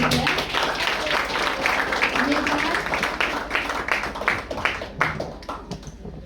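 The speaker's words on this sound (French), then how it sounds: "Applaudissez-les, s'il vous plaît." An audience claps for schoolchildren, a dense burst of applause close by that thins toward the end, with a voice speaking over it.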